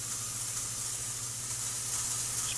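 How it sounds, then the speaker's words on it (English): Spray paint hissing from a virtual can onto a crystal tree in the VR painting game Such Art, a faint, continuous, even hiss with a low hum beneath and no talking. "So yep, can spray paint the tree also."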